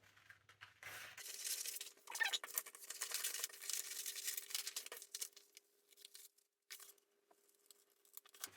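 Scissors snip through printed paper sewing pattern pieces, a steady run of close, crisp crunching cuts and rustles with short pauses between strokes.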